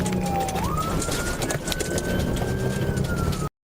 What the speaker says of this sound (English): Putting the car back into drive automatically reactivate the siren.